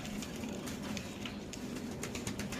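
Pigeons at a busy pigeon market, soft low cooing over a constant background hum and scattered bird noises, fairly faint, with no clear talk.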